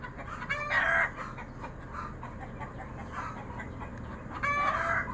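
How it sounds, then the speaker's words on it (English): Several chickens in a garage cluck and squawk in agitated bursts, with louder outbursts at the start and end over a steady background hum. "Boy, these chickens are going crazy. They're in the garage."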